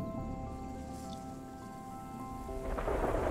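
Steady rain in the video game Terra Nil hisses continuously, with a low rumble underneath and a few brighter drips, growing slightly heavier toward the end.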